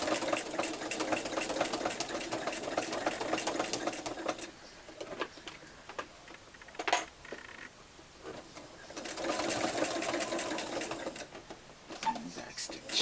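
A sewing machine stitches a fabric face mask with a back stitch, whirring steadily in close runs that stop and restart, with pauses of quieter handling in between.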